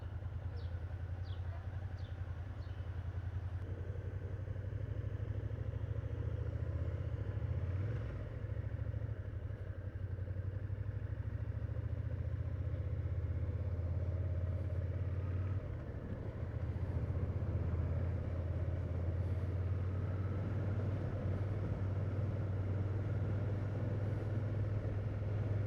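A Suzuki motorcycle rides through the streets of Fuengirola, its engine holding a steady low rumble from start to finish with slight swells as the throttle changes, up close and continuous, with no talking.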